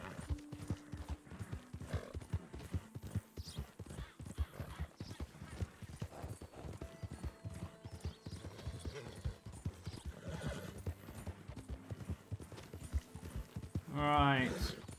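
A horse in Red Dead Redemption 2 gallops with rapid, rhythmic hoofbeats that continue throughout, and a whinny near the end, while someone talks over it.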